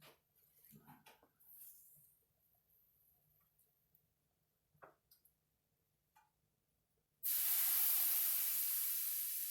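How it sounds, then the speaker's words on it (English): After quiet scattered clicks and faint movement, a loud, sudden hiss erupts near the end as drizzled water sizzles and steams on a hot woodstove. "See if we can drizzle a little water on it to make it sizzle."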